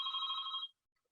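A single short electronic ring rises indoors, a bright tone lasting well under a second and then cutting off into near silence.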